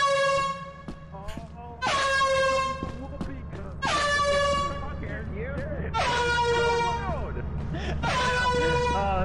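Air horn item from the video game Lethal Company, sounding five loud, blaring honks of about a second each with short gaps, over steady background noise.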